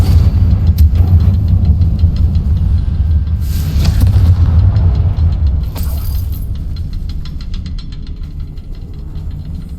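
Confringo fire spell explosions in Hogwarts Legacy, two blasts a couple of seconds apart over a loud, steady low rumble.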